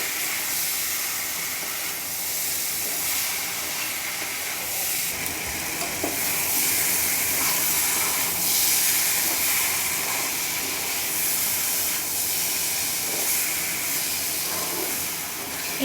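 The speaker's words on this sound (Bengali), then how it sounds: "এবারে আলু এবং এঁচোড়টা সমস্ত মশলার সঙ্গে খুব ভালোভাবে নেড়ে চেড়ে মিশিয়ে নেব এবং এঁচোড় এবং আলুর সঙ্গে মশলাটা ভালোভাবে কষিয়ে নেব।" Potato and jackfruit pieces are stir-fried with spices in a pan, making a loud, continuous hissing sizzle close to the listener, with faint scraping and stirring beneath it across the whole stretch and no talking.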